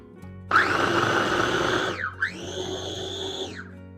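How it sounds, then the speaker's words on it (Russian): A food chopper grinding oat flakes with prunes, a loud close motor whine that runs about a second and a half, briefly drops out, then spins up again for another burst before winding down. "Теперь мы закрываем измельчитель. Так. И все это начинаем измельчать."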